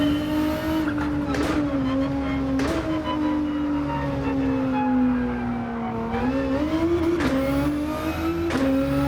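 Race car in Gran Turismo 7 driving at speed, a steady close engine drone whose pitch rises and dips with gear changes and throttle, plus occasional brief tire noise, with no talk.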